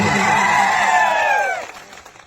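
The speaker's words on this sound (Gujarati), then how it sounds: "રતનસિંહભાઈ માટે આપણે જોરદાર તાળીઓ પાડી લઈએ" At a political rally, a crowd roars with cheering and applause, loud and close, then the noise drops off quickly near the end.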